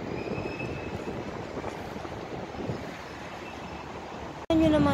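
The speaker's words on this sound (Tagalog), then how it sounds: "sa sobrang lakas ng hangin" Strong wind roars over the microphone during an afternoon dog walk, a dense, steady buffeting rush. It cuts off abruptly just before a voice begins at the very end.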